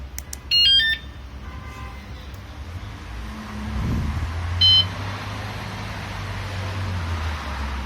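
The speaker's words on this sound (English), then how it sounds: "See, it beeps after the initial beep" A wsdcam wireless bike alarm chirps a few short electronic beeps after arming, with a brief louder tone partway through over a low steady background hum; no talking.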